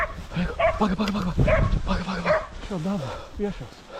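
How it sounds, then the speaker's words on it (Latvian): A dog barks several times in short yips and bow-wows outdoors in brush, mixed in with people speaking Latvian over it. "Tas ir suns."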